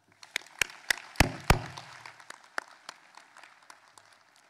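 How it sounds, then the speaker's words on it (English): Scattered, distinct claps from a graduation audience at a high school ceremony, a few sharp close hand claps that thin out into sparse, fading clapping. "Please give everyone here a round of applause"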